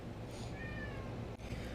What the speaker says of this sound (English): I don't know if you can hear Bellows screaming in the background.